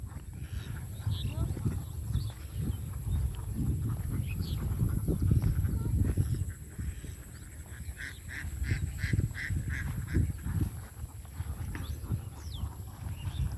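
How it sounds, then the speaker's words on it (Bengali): A large flock of ducks at a riverside village honks and quacks in a busy, continuous chorus, with voices faintly mixed in. "দেখতে পাচ্ছেন হাঁসের পাল,"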